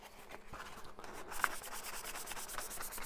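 Steady, rhythmic rubbing of fine 1000-grit sandpaper against a hard effects pedal enclosure, close up and fairly quiet, in repeated back-and-forth strokes.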